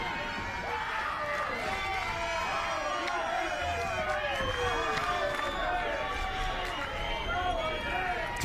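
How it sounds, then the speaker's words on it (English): A crowd cheers and murmurs at a junior league baseball game, a fairly faint, continuous background swell beneath a commentator speaking over it. "Crowd getting into it here."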